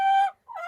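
A hen with her chick on a Southern Arizona homestead gives two short, bright clucks separated by a brief gap, close by and clear with no talking.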